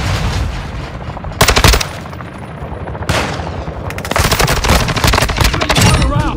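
Loud bursts of HCR 56 light machine gun fire in Call of Duty MW2, rapid rattling strings of shots in short and longer volleys separated by brief lulls, close and dominant.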